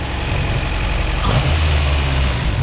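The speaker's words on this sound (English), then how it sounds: "this is how the car sounds like with no intake" A car with a B20 VTEC engine idles with no intake fitted and a faulty throttle position sensor, a steady close-up rumble with a slightly rising, throatier tone partway through and no talk.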